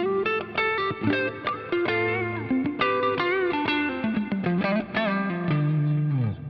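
An electric guitar plays a lively riff with mild, crunchy distortion, notes ringing clearly with a touch of echo.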